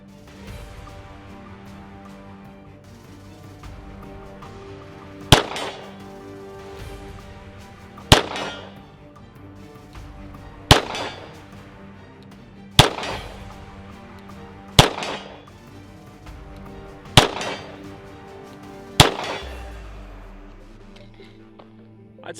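A Glock 19 Gen 4 pistol fires seven loud, sharp shots spaced roughly two to three seconds apart. Each report rings out briefly over a quiet outdoor background.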